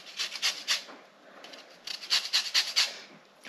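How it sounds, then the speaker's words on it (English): A lemon scraped against a zester or grater down to the white pith, giving repeated short raspy strokes in two bursts, close and fairly quiet, with no talking. "So now I want the zest of half a lemon."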